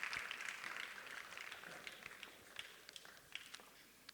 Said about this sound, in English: Let's applaud them as they now exit the stage.